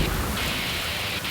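Rain pours steadily during a thunderstorm, a dense hiss of water with a low rumble beneath and no clear voices, heard outdoors at a home under renovation.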